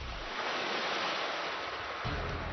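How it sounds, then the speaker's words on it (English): Steady ocean surf washing ashore near a beachfront home in Malibu, a continuous broadband roar of breaking waves with some wind rumble, moderately loud and alone with no voices. "he hated the sound of the ocean"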